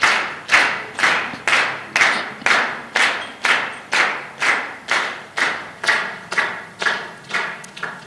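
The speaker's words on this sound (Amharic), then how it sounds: "አጨብጭቡለት።" An audience claps in regular bursts at a Christmas entertainment event, about fifteen rhythmic waves of applause close by, with no talking.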